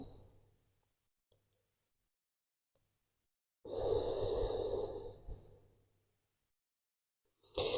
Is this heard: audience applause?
no